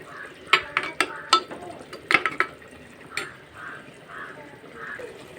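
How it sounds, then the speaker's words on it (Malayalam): A spoon gives several sharp metallic clinks against a pot of sardine chilli curry, then the thick sauce bubbles softly on its own, the pops soft and fairly close. "ഇപ്പോൾ ഇതാ മീനും കൂടി ഇട്ട് നന്നായി തിളയ്ക്കുന്നുണ്ട്."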